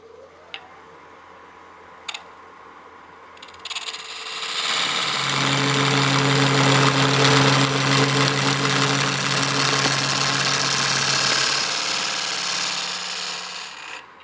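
A wood lathe spins up with a few clicks and then a steady loud whirring drone as a turning tool cuts away a large corner section of material, the hum holding evenly until near the end.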